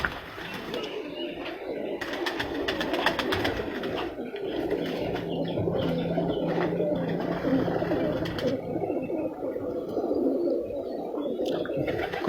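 Pigeons cooing steadily at a breeder's loft, soft murmuring calls layered with faint chirps and background voices talking throughout.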